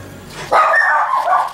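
A single drawn-out dog bark or yelp, fairly close, rising sharply and holding for about a second with a slight second push near the end.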